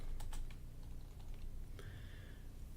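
Quick keystrokes clatter on a computer keyboard, a brief cluster of taps up close at a fairly quiet level.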